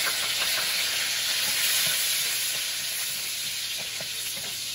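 Garlic dropped into hot oil gives a steady, close hiss of sizzling that holds evenly throughout with no talking.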